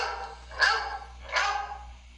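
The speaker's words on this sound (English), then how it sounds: "barked the dog" Two loud, separate dog barks ring out clearly during a read-aloud of an Eric Carle children's bedtime story, each a short harmonic burst with a pause between and no talking.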